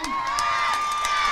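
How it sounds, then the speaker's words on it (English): Crowd at a high school football game, Oologah Mustangs against Cushing Tigers, cheering and shouting at a steady level in the distance, with children's voices mixed in. "Good crowd tonight. You can hear them."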